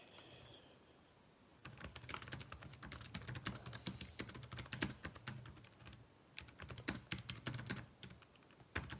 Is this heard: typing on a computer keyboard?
yes